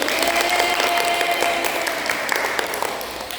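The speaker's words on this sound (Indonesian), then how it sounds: "Tepuk tangan dulu." A high school classroom of students gives a steady round of clapping for good test results, dense and even applause lasting a few seconds, close and moderately loud, fading slightly toward the end.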